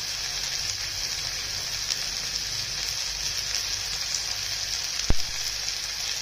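Dry spices (turmeric, coriander powder and yellow masala) fry in hot oil in a pan for a village-style ridge gourd curry: a steady, close hiss of sizzling with a single sharp click near the end.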